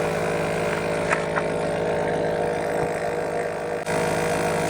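A Gobege 12V heavy-duty portable air compressor inflates a truck tire, its motor running with a steady, even mechanical hum and buzz that continues without a break.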